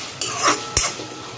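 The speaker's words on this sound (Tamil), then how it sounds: "இப்போ நீங்கள் இந்த கரண்டியால் நல்லா மேஷ் பண்ணி விடுங்க" A spoon mashes bread halwa cooking in oil and ghee in a pan, giving two brief scraping clanks against the metal spaced apart, with no talking.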